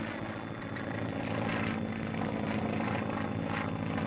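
A training airplane flying aloft, with a steady continuous engine and propeller drone holding at an even level throughout, with no talk.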